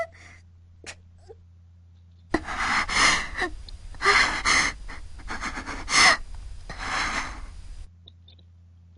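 Sara, a character from the visual novel Ever 17, gasps and pants heavily after swallowing water, several ragged breaths close up in a burst of about five seconds, with near silence before and after.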